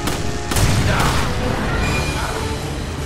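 Resident Evil 5 gunfire rings out as a dense burst of booming shots, loudest in the first second and then trailing into echoing reports and crashes under a continuous rumble.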